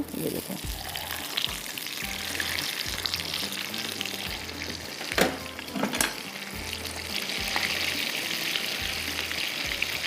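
Tikka boti shashlik frying in a pan gives a steady, close sizzle throughout, with a couple of sharp utensil clicks midway. Someone speaks briefly over it.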